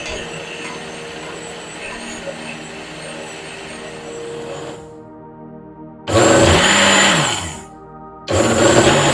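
An electric hand mixer beats carrot cake batter in a bowl, a steady whirring hum for about five seconds, then silence, then two louder, closer bursts of mixing with a wavering motor pitch.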